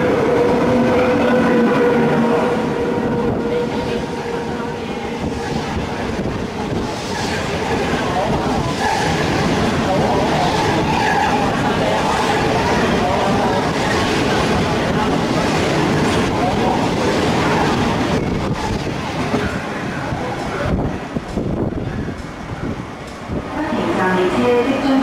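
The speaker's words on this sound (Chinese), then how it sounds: "The non-stop train is passing through this station." An MTR intercity through train rumbles loudly past a station platform without stopping, a sustained heavy roar and rattle of rail cars lasting throughout, with station announcements and voices heard beneath it.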